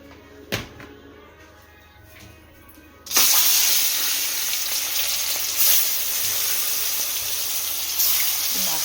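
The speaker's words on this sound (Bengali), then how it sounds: "মাছটা সবার আগে ছাড়ি।" Fish dropped into hot oil in a home kitchen pan, starting with a sudden loud burst of sizzling that settles into a steady, close frying hiss, with faint talk before.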